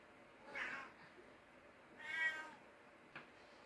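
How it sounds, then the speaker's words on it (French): A cat meows twice, fairly faint and indoors, with a brief click near the end and otherwise quiet background. "J'ai des chats qui font pas des bruits de chat."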